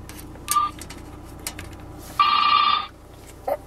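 An electric telephone bell rings in short bursts, a brief ring, then a longer sustained ring and a final short chime, fairly close over a quiet room with no speech.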